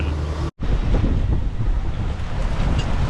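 Strong wind buffets the microphone with a heavy roar near the water at a boat trailer. There is a brief dropout early on, then constant rumbling gusts.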